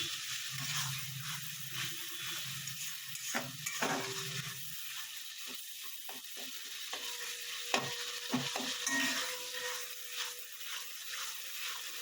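Fish curry with green chilies sautéing in a pan, a soft steady sizzle broken by scraping stirs and clinks of a spoon against the pan, close and fairly quiet, with no talking.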